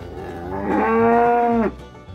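A Brown Swiss dairy cow in her third lactation, being milked in a farm corral in El Salvador, lets out a single loud, close, drawn-out moo that swells and then cuts off.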